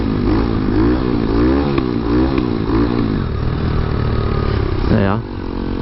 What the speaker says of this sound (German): wie man merkt, der Vergaser mag noch nicht so ganz